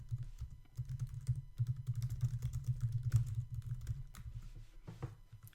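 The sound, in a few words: typing text on a computer keyboard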